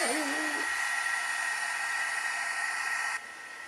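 A heat tool blows steadily across a watercolor-inked card during card making, a loud, even whooshing hiss that runs unbroken and drops slightly in level near the end.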